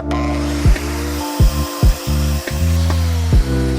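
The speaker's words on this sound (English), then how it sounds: "Now I'm gonna cut a 12-inch section out." A power saw cuts a 12-inch section from a welded metal bar, a loud, steady close grinding whine broken by several short surges and dips as the blade bites into the steel.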